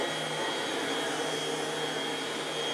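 A 1992 Dirt Devil Broom Vac Model 702 vacuum cleaner runs continuously with a steady whirring motor and airy suction roar, even and unbroken throughout.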